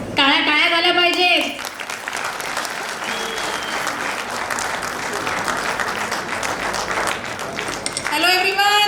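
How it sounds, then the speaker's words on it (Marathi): An audience at a school annual day applauds steadily, a broad bed of clapping that carries on throughout, with a person speaking briefly at the start and again at the end. "टाळ्या टाळ्या झाल्या पाहिजे."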